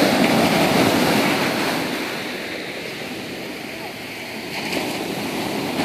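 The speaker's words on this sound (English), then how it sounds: "We're down here on the beach in Santa Monica, next to the pier, checking out some waves." Ocean waves break and wash along the beach at Santa Monica beside the pier, a broad roaring surf that swells and recedes, with wind buffeting the microphone.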